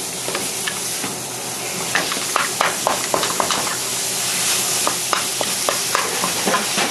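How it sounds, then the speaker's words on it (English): Ground pork sizzles steadily in a hot pan for a Vietnamese rice roll filling while a spatula scrapes and breaks it apart, giving repeated sharp clicks over the continuous frying hiss, with no talking. "break the pork apart with your spatula as you cook it"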